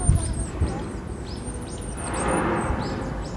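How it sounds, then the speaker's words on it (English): A bird chirps repeatedly in short, high, rising calls, fairly faint over a steady low background rumble, with no one talking. "Can you hear the bird?"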